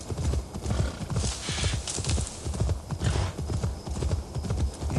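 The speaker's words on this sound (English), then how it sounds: "On our stolen horsey." Horse hooves gallop in a fast, steady clip-clop rhythm in the video game Assassin's Creed Valhalla, continuous and fairly close throughout.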